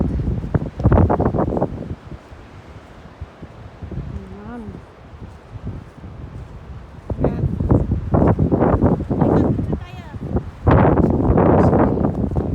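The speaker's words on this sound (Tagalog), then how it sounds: "Mahangin. Mahangin." Strong wind buffets the microphone in loud gusts at the seaside on Bermuda Island, with a person speaking briefly between bursts.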